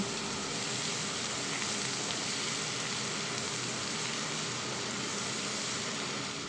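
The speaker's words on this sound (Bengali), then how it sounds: "এবার অ্যাড করছি চপড অনিয়ন।" Two large chopped onions sizzle in hot oil with cumin and four or five green chillies for a soybean keema, a steady dense crackling hiss that stays loud and even throughout.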